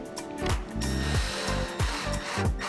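A power driver sinks 1 1/4 inch wood screws into a wooden shuttle, producing loud, close bursts of whirring with rhythmic ratcheting clicks, each run ending in a falling tone as the screw seats tight.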